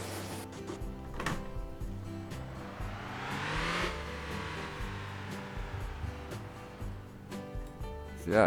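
A video game truck engine rumbles and revs up to a rising whine before settling back to a steady idle, with mechanical clicks and clunks around it and no talking.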